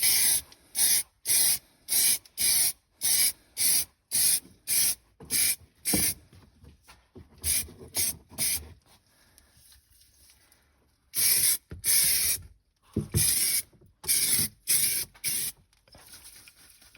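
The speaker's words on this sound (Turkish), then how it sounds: "Daha doğrusu astar sprey sıkacağım şimdi." Short bursts of an aerosol primer spray can hiss in a rapid series, pause for a few seconds, then resume in another run of quick sprays, applied in a tight spot on a fiberglass Anadol car repair.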